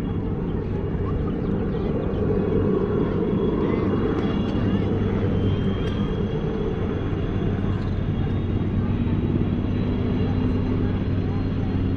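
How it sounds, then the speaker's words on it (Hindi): Helicopter taking off near the Longewala war memorial in Rajasthan, a loud steady engine drone and rotor rumble that fills the scene, with people talking underneath. "There is a helicopter. It's taking off."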